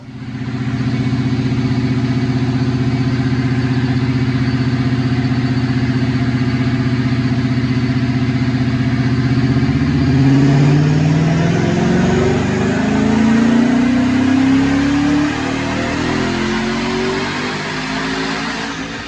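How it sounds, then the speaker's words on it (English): A 2008 Ford Mustang Bullitt with a Paxton supercharger and bolt-ons makes a loud dyno pull, its engine droning steadily and then climbing in pitch as it revs hard, close and continuous throughout. "let's check out the dyno pull"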